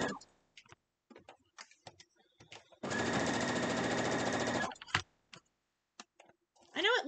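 A sewing machine runs in one steady, close burst of about two seconds, stitching a quilt block for an Easter egg design, with quiet rustles and clicks of handling fabric before and after.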